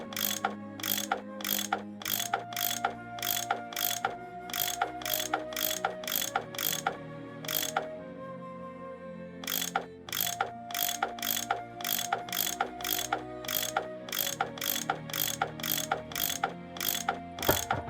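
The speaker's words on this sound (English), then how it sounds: "I bet that's what you use to unscrew these bolts." A ratcheting tool turns bolts in the Nancy Drew game Last Train to Blue Moon Canyon, rapid rhythmic mechanical clicks in long runs with a brief pause midway, crisp and close over a soft game soundtrack.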